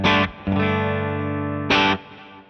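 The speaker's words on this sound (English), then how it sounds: "I've cleaned up the amp a little bit, so it sounds like this." Electric guitar through an amp with no pedal and only slight breakup, two bright chord strikes ringing out with a sustained tone between them, close and fairly loud, no voices.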